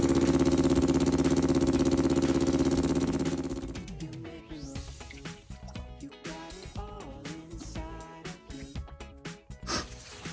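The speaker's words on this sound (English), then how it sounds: "it's just running and idling pretty well, just off the fuel and the float bowls" A Kawasaki Ninja 250 engine fitted in a Triumph frame, running on its float bowls: a loud steady idle that drops into a lumpier, uneven burble after a few seconds, recorded close up with no talk.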